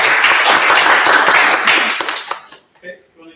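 An audience at a candidates' question-time event claps in a dense burst of applause that thins out and stops after a couple of seconds, followed by a few scattered faint sounds.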